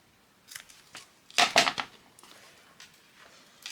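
Scissors trim small bits off paper for a traveler's pocket notebook, giving a few crisp close snips with a quick burst of cuts in the middle and a final snip.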